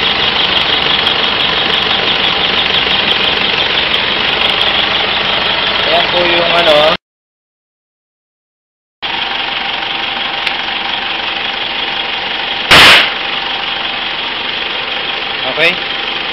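A car engine idles with an HHO hydroxy kit fitted, hydrogen and oxygen gas feeding into the intake, in the Philippines. A loud, steady, close idle drone runs throughout, broken by a brief gap and a short pop, with someone talking over it.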